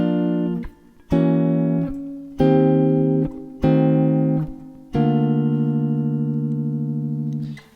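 Guitar plays a voice-led jazz line of sustained chords over rhythm changes, with five clear strummed attacks that ring out, the last held longest, loud and close with no talk.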